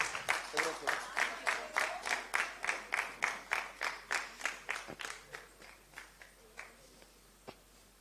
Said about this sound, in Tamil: பலத்த கைத்தட்டல் இருக்கும்னு நினைக்கிறேன்